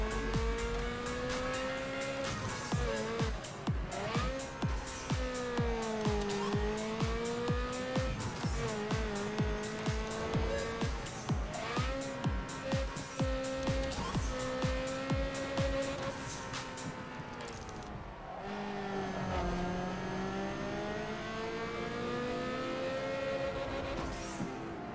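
Race car in the Need for Speed Underground 2 video game, a loud continuous engine drone with rapid rhythmic gear pulses and pitch swings through corners, lasting throughout with a brief shift near the end.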